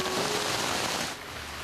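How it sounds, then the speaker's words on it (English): Rain falls steadily in woodland during a black bear hunt, a soft, continuous hiss of drops on leaves and ground that eases slightly near the end, with no voices. "The rain started to fall."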